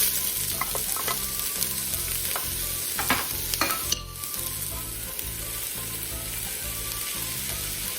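Onion hits about three tablespoons of hot oil in a pot and fries with a loud, constant sizzle while a spoon scrapes and stirs it several times, close up.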